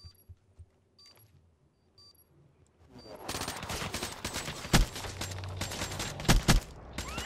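Gunfire in a shooter video game: after quiet clicks and small interface tones, a dense burst of rapid automatic shots erupts and keeps going, with a few louder sharp cracks standing out.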